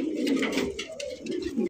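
Pigeons coo repeatedly in a close, continuous low throaty murmur, several birds overlapping without pause, with no talk over them.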